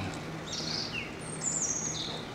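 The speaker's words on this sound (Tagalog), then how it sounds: "Mga huni ng ibon." Thin, high chirps and short trilling bird calls over a steady outdoor hum in cold weather in Germany, faint and somewhat distant.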